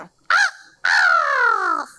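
A human voice imitates crow caws, calling crows to food: a short rising caw followed by a longer, drawn-out falling caw, loud and close, with no other talk.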